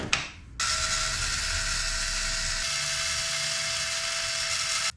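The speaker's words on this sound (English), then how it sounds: "Let's remove those two screws." Power tool backing two screws out of the engine cover on a 2022 BMW S 1000 RR, a steady high whine running close and unbroken for about four seconds after a short start, with no voices.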